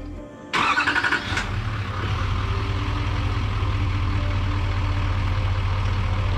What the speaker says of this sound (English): Demonstrate remote start real quick